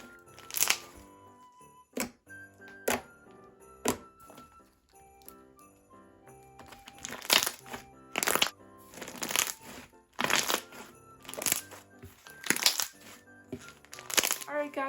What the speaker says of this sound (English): It's so nice and stretchy, and it has great clicking noises and bubble pops.